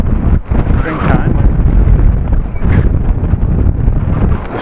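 Very heavy wind buffets a microphone while riding a bike, a loud, roaring, continuous rumble with surging gusts and a brief dip, with a voice partly audible beneath.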